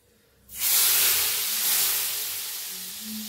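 A hot tempering with red chilli powder is poured into kadhi. Near silence breaks into a sudden loud, steamy hiss that swells, then gradually eases while staying strong to the end.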